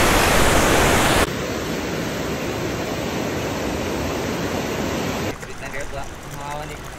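A river in Kibungan, Benguet rushes below a bridge with a loud, steady roar of water that drops abruptly and then continues more softly and unevenly toward the end.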